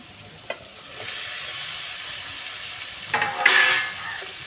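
Pre-fried fish pieces and potatoes hit a hot pan, a loud sizzle swelling after a couple of sharp clinks, with hissing spitting bursts near the end and no one speaking.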